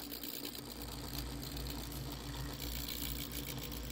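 An HO scale AHM C424 model locomotive, converted to a 24-volt high-torque motor with homemade driveshaft couplings, creeps along at low speed. A steady mechanical whir and hum sounds close up throughout.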